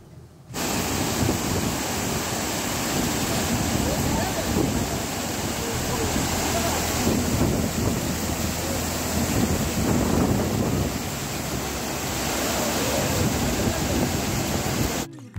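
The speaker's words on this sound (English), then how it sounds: "you should hear the voice of the waterfall" Silver Cascade waterfall in Kodaikanal rushes in a loud, constant broadband roar, steady and close, with some wind buffeting mixed in.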